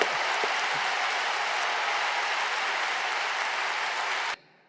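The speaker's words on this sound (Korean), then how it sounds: "이때 박수를 치는 겁니다, 여러분." A congregation at a 2022 Easter joint worship service at Yoido Full Gospel Church claps in loud, sustained applause that holds steady for several seconds, then cuts off abruptly near the end.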